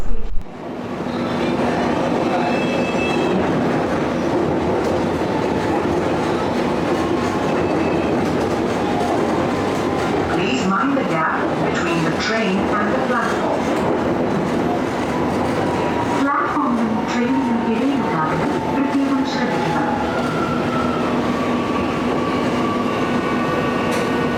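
Kochi Metro train ride heard from inside the carriage: a steady, loud rumble of wheels and motors throughout, with occasional clatter and brief squeals as it moves, while a person speaks softly at times.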